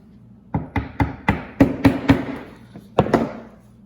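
About ten sharp hammer taps ring out close by in an uneven rhythm, each a bright metallic knock with a short ring, as pins are hammered into glued knife handle scales.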